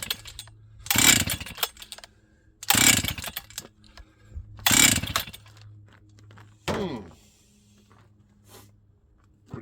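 A Husqvarna 268XP chainsaw running on bad fuel fires in three short loud bursts about two seconds apart, then a weaker sputter, each dying back to near silence.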